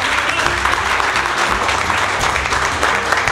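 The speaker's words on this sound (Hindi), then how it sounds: "देखो यहाँ पर आपको ताली बजाना है MD सर के लिए," Students in a hardware training class clap loudly and continuously for their director, a close, dense wash of applause.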